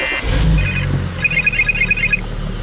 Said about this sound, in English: Turn on your car and see how it starts.